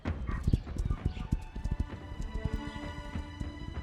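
Horse hooves clip-clop steadily in the Star Stable video game, loud and rhythmic with several quick clusters of hoofbeats and a faint background tone, with no talking.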